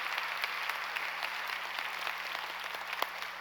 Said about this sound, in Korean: 이 시간 흰머리 소녀들께 한없는 감사의 박수를 한번 드립시다.